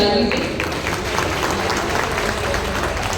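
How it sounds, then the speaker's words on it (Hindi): An audience at a Hindi humorous poetry gathering in Rosera claps together, a dense, even patter of many hands that stays loud and sustained from start to finish. "सो एक बार तालियां अपने लिए बजा दीजिए"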